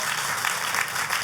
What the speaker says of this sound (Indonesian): kalau mau tepuk tangan yang paling meriah